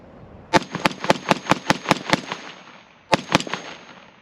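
Modern Warfare II gunfire in a video game: a rapid run of eight or nine sharp, evenly spaced shots, then a pause and a short burst of three more, loud and close with no talk.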